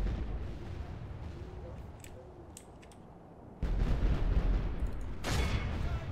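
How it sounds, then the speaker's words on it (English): Mortar bombardment on a small wooden fort city in the Total War: Warhammer game, heard as distant thuds and crackles of fire, followed by a louder rumbling burst of explosions with scattered gunfire. "These mortars are so overpowered in just like smaller fort cities"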